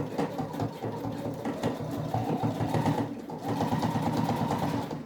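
A sewing machine stitches a birdie-themed handbag panel, running in steady continuous bursts with a brief pause midway, close and clear, as it backstitches at the start and end of the seam.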